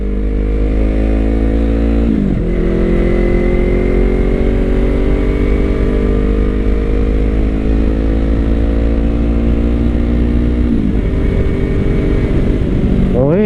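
An R3 motorcycle fitted with an aftermarket exhaust is ridden at close range, its deep, smooth engine note climbing steadily in pitch through the gears, with two brief dips at the gear changes, loud and continuous throughout.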